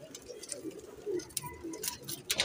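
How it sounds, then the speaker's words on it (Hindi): Kamagar pigeons coo softly in short, low murmurs close by, with faint clicks and rustles around them and no other sound covering them. "माशाल्लाह कबूतर सारे ही अच्छे हैं दोस्तों अपनी जगह पे"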